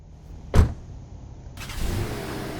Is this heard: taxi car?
yes